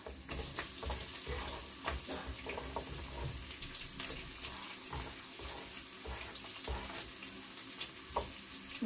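Garlic and onion sautéing in a pan for a pork dish, a quiet, steady sizzle broken by soft scraping stirs, with no talking.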